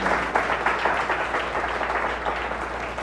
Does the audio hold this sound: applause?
yes